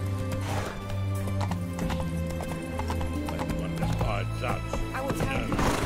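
Roach, Geralt's horse in The Witcher 3, trots with quick, steady clip-clop hoofbeats and gives a short whinny, set against in-game music and a voice speaking.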